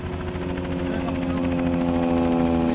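A Piper Super Cub, a straight-wing antique airplane, roars past in a steady, loud propeller and engine drone during a high-speed pass at an air show, the tone sustained and slowly building.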